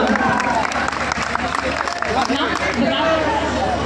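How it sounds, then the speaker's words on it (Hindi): An audience at a devotional bhajan program applauds steadily, the clapping blended with crowd chatter and voices throughout. "एक बार इनके लिए, इनकी पूरी टीम के लिए जोरदार तालियां"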